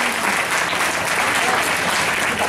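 An audience at a Marathi kirtan in Ranmala claps loudly and steadily in dense applause that fills the whole moment, with no break.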